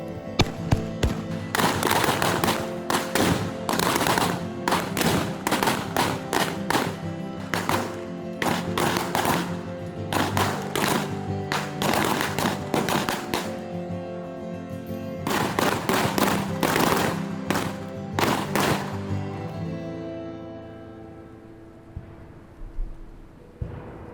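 Rapid bursts of gunfire in a western film battle scene with Quantrill's Raiders, loud rattling volleys in long runs with a short pause midway, then fading to a few scattered shots.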